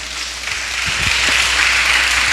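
A congregation claps through a church midweek service, producing a dense, steady wash of applause that swells slightly and carries on without pause.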